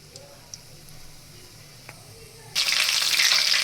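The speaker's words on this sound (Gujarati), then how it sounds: "હવે આપણે તેને તળી લેશું." Potato bhajiya coated in gram flour drops into hot oil. After a quiet stretch with a couple of small clinks, a loud, bright, hissing sizzle bursts in and keeps crackling steadily to the end.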